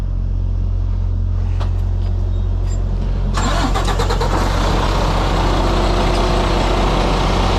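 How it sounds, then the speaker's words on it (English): A Freightliner truck with a Detroit engine cranks briefly and catches at about three seconds, settling into a loud, steady diesel idle close by. "Start your truck up, turn your wheels to the right."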